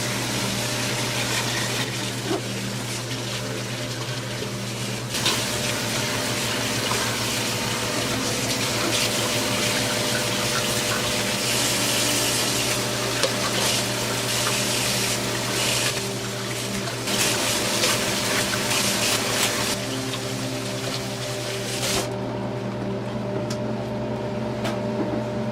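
Cold tap water runs steadily to rinse out an ice-dyed tie-dye fabric, a loud continuous gushing rush with a low hum beneath it, unbroken for the whole stretch.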